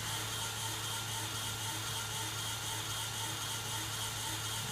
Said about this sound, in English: One thing I'm really liking about this grinder, I can actually talk on the video.